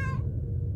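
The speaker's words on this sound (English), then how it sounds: "Someone left their cat outside." A short, clear cat meow, bright and fairly close, cut off quickly over a low background hum, heard in the horror video game Nightmare of Decay.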